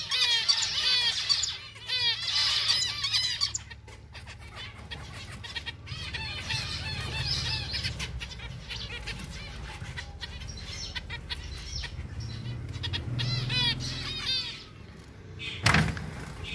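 Zebra finches in a cage, a male courting a female, give rapid repeated chirps and nasal calls in bursts over a low background rumble.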